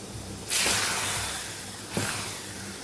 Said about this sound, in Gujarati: તો ઉપરથી આપણે વઘાર કરી લઈશું